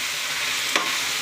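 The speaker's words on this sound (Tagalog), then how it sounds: "Gigisa po natin yung tuna." Tuna sautéing in a hot pan, a continuous loud sizzle and crackle of frying with a brief stir-like scrape partway through.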